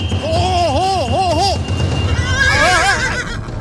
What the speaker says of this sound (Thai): ไอ้ม้าตัวนี้มันพยศมากไม่มีใครเอาอยู่หรอก